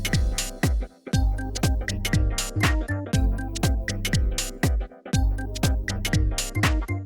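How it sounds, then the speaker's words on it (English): Smooth jazzy house beat built in Maschine from a single expansion kit: steady four-on-the-floor kick pulses under crisp hi-hats and warm chord stabs, looping evenly at a moderate tempo with no voices. "we're going to make a smooth, jazzy house beat using one kit from one expansion pack"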